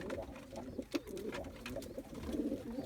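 Pouter pigeons (pumpers) cooing inside a breeding loft, soft low throaty coos close by over a constant background murmur of the loft.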